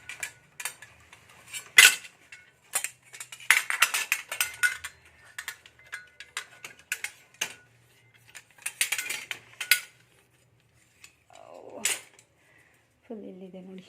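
Brass kitchen items are picked up and sorted for washing on a countertop, with sharp metallic clinks and clatters coming in irregular bursts, then a few quieter pauses near the end.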